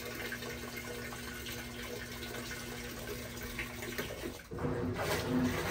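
A Consul washing machine fills with water, a steady close rush of running water that swells louder and brighter near the end, with a low hum underneath and no speech.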